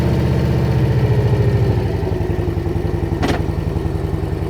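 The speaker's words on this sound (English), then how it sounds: "When you first started the bike, man, the compression, I heard it" A motorcycle engine with a Tab Performance Redline Series exhaust runs steadily and loud up close, a low throbbing pulse that deepens after a brief rev, with a short hiss partway through and no talking.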